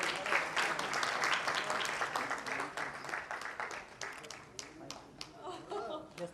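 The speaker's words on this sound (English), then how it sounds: "Please have a round of applause." An audience at an awards event gives a steady round of applause, dense clapping that thins out toward the end with a few scattered claps.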